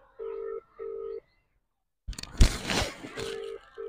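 A mobile phone call rings back through the handset, two short tonal beeps then a pause, followed by crackling handling noise and another beep at the end.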